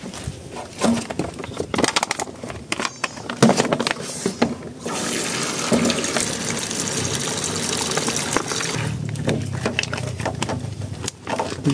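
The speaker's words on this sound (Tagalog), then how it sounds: "Sasalo ka ng tubig." Water pours and gushes into a lidded water container at a campsite: a loud, splashy stream that surges and tapers, with brief pauses between pours.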